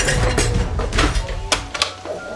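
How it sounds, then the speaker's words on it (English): A spatula scrapes and knocks against the side of a mixing bowl holding vegan pasta sauce ingredients, giving irregular clinks and scraping strokes, close and fairly loud, with no talk. "I'm probably gonna scrape the side a little bit"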